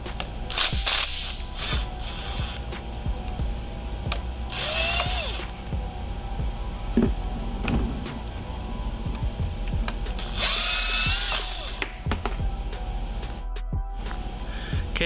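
A ratchet tool works on the passenger-side chain tensioner of a Ford Coyote engine in a Bronco swap, making repeated rapid clicking bursts over a constant mechanical background hum.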